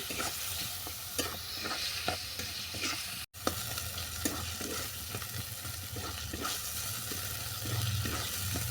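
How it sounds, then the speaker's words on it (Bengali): Chicken masala frying in a pan with turmeric and chili powder, a steady close sizzle broken by regular scraping stirs of a spatula, continuing alone with no voices. "দিলাম হলুদ গুঁড়ো আর দিলাম লঙ্কা গুঁড়ো মশলাটা ভালো করে কষিয়ে নেব"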